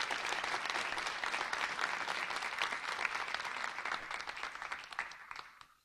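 Audience applause for a distinguished panel at an evening event, a full steady round of clapping from a large crowd that holds evenly before tapering off near the end.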